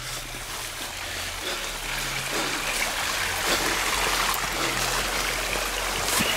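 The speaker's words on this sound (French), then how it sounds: "Regardez un petit peu l'eau, le ruisseau en question, qui m'intéresse." A stream flows through an underground tunnel, a steady, fairly loud rushing and trickling wash that fills the space without break.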